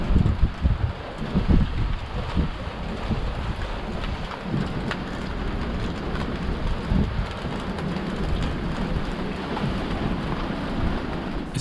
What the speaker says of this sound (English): It's a thunderstorm and the wind's picked up, but rain starts easing off.